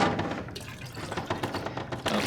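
Water is collected from a toilet in The Long Dark video game, a steady liquid pouring and trickling sound effect with small splashy surges, fairly loud and close, with no voices over it.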